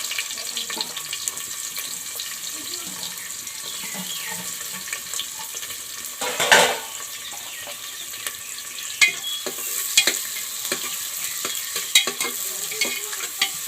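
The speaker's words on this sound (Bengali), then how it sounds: "তেলটা গরম হয়ে গেছে, আমি এখন পেঁয়াজগুলো দিয়ে পেঁয়াজ আর তেজপাতা একসাথে দিয়ে দিলাম।" Onions and bay leaves sizzle in hot oil for a simple chicken curry, a steady frying hiss broken by intermittent clinks and scrapes of stirring, with no one talking.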